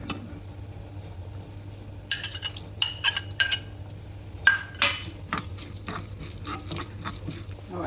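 Whole spices such as peppercorns tumble into a pan for low-heat dry roasting, giving a scatter of bright clinks and rattles in short bursts over a steady low hum, with no talk.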